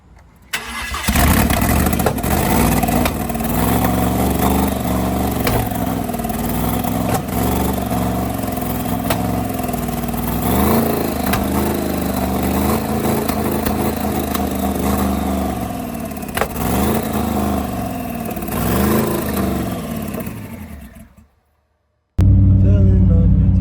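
A 1100 hp Ford Mustang engine cranks and fires up, then settles into a loud, steady, lumpy idle close by for about twenty seconds before cutting out abruptly.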